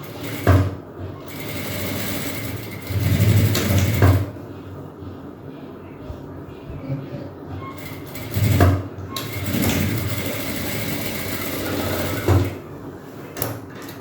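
Sewing machine stitching the shoulder seam of an umbrella frock, running in several separate bursts of rapid mechanical whirring with quiet pauses between them.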